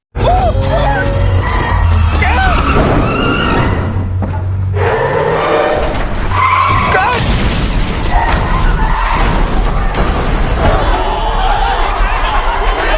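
A speeding car in a film scene skids loudly amid a dense, busy soundtrack, with crashing thuds and crowd-like noise throughout.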